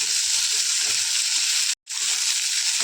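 Onions sizzle steadily in a hot pan for a Punjabi-style mixed vegetable sabji, a loud continuous frying hiss that drops out briefly near the end and then resumes.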